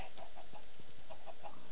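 Chickens in the Minecraft video game give a series of short soft clucks in an uneven rhythm, moderately quiet over a faint background, with no talk.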